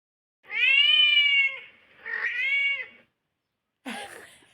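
A kitten meows from a video playing on a mobile phone: two long, drawn-out tonal cries followed by a shorter, rougher third call after a pause, clear and close in an otherwise quiet room.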